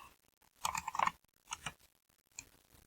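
Keys clacking on a computer keyboard as a command is typed into a Windows command prompt, a quick burst of close, crisp taps followed by a couple of shorter clusters, quiet and without talk.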